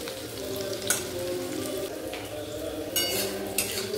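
Chopped onion sizzles loudly and steadily in a pan over a high gas flame, slightly burning, with onion paste, ginger, garlic and cumin powder; faint stirring and a few utensil clinks cut through the constant frying.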